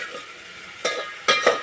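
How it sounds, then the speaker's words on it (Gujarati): Onions fry in a pan for Maggi noodles at a village farm. A soft sizzle runs under a few brief scraping stirs near the end, close and without talking. "તુષારભાઈ ડુંગળી શેડવા મેકી દીધી છે."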